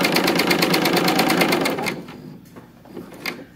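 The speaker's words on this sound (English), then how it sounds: "You'll do the same thing at the sewing machine." Sewing machine stitching swim trunks fabric, a loud, close, rapid steady chatter of the needle for about two seconds that then slows and stops, leaving a few softer clicks and handling sounds.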